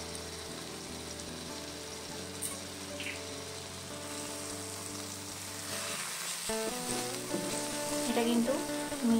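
Masala frying in a pan over medium-low flame, crackling with a steady, close sizzle while it is stirred. Scraping strokes come through, and someone speaks briefly over the sizzle.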